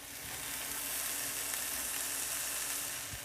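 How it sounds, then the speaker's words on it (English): Ground beef browns in a pan on medium heat, giving a steady, close, even sizzle and crackle with a faint frying hiss throughout and no talking. "taking our ground beef with our onions and garlic and browning them"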